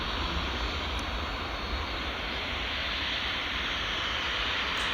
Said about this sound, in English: TUI just taxiing out there